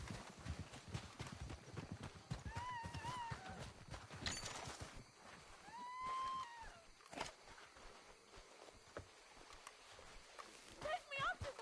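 Horse hooves clip-clop on a trail in the Western video game Red Dead Redemption 2, a steady patter under spoken dialogue, with birdsong and other ambient outdoor game sounds mixed in.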